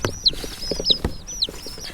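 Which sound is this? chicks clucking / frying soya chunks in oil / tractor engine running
chicks clucking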